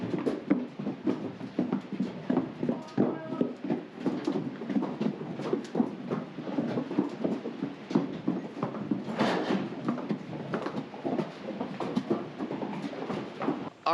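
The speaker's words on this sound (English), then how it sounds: "it's time to let in the rest of these hungry horses." Hungry horses let in at feeding time on a farm, their hooves clip-clopping in a quick irregular patter of many close steps over a hard floor, moderately loud with no talking.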